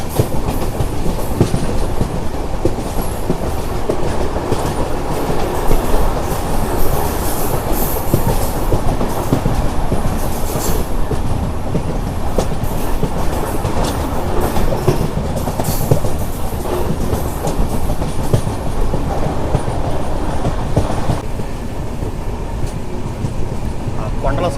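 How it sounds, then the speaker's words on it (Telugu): Rumbling carriages and clickety-clack wheels of the Sevan Hills SF Express from Tirupati to Secunderabad as it slows on a curve between hills, a steady loud roar that continues throughout. "మన ట్రైన్ అయితే స్లో అయింది."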